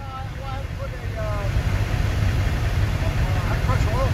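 A 7.3 Powerstroke diesel in a 1999 Ford F-550 idles with a steady low rumble that swells slightly partway through, while people talk nearby over it.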